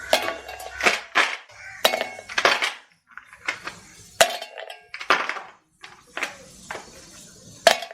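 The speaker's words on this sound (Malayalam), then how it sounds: "അതിലേക്ക് നമുക്ക് ഐസ് ക്യൂബ്സ് ഇട്ട് കൊടുക്കാം" Ice cubes drop into a mixer jar in a series of hard, glassy clinks and clatters, about eight separate bursts spaced irregularly with brief pauses between, close and fairly loud.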